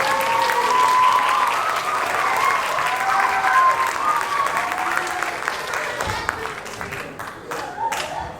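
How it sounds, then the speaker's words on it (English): Audience applause for the presenters at a classroom music showcase, a steady wash of clapping from a crowd that holds for several seconds, then thins and tapers toward the end, with some voices mixed in. "One more quick round of applause for the presenters"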